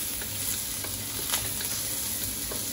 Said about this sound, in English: So, let's just saute it for a little bit until it's just golden brown.